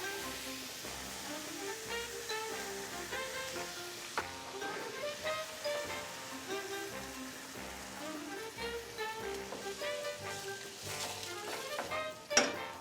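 Crushed ingredients hit a hot sauté pan and sizzle steadily at a modest level, with occasional stirring and background music playing throughout.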